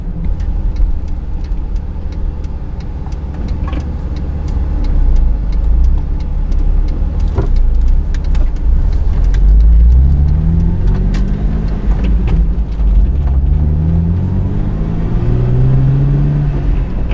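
A Jeep Wrangler with an NSG370 6-speed manual transmission drives along, its engine rumbling loudly and close, rising and falling as it revs and shifts through the gears.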